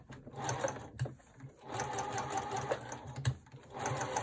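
A sewing machine runs at close range, stitching mittens made from repurposed wool fabric in a steady whir with short stops and faint clicks between runs.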